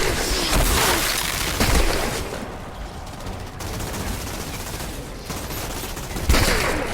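Gunfire in the Outriders video game, a dense continuous barrage of shots and booms that stays loud throughout with brief swells, battle noise filling the whole stretch.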